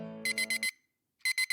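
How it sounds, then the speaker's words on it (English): A digital alarm clock with an LED display blares in loud, rapid triple-beep bursts; one group of three beeps cuts off, a brief silence follows, then another group of three beeps sounds, all close and alone. "I woke up to the blaring sound of my alarm."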